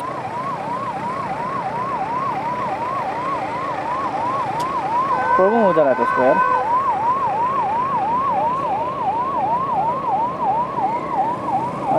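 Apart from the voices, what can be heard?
ambulance siren passing on the street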